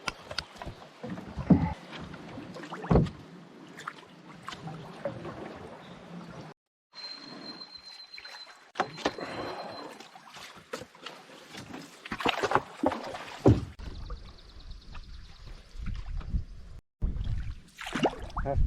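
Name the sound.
canoe being lined upstream against strong river current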